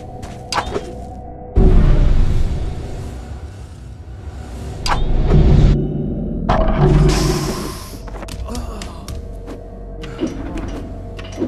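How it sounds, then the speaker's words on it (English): A light being shattered in the stealth video game Mark of a Ninja, with loud bursts of glassy crashing and rumbling impacts among game sounds, intermittent over several seconds. "But shattering one will make a loud noise, so be ready for them to react."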